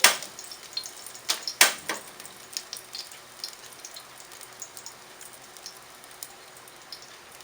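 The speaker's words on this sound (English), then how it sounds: "Now I'm going to stir fry our spices, our" Spices and garlic sizzle in a pan being stir fried in a village kitchen, a steady crackle with a few sharp pops and stirring clatters early on, fading to a softer hiss.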